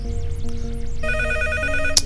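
A telephone rings in the PC video game Deus Ex, a steady electronic ringing tone starting abruptly over soft ambient game music and ending with a brief click.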